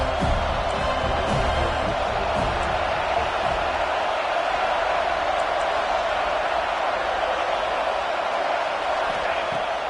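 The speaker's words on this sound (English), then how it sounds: "3rd down, and the crowd really getting into it." A college football stadium crowd at an Auburn versus FSU game roars steadily on third down, a dense, continuous wash of cheering noise throughout.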